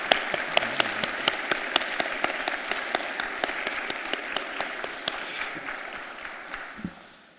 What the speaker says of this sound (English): What a round of applause for our recipients and the traditional drummers.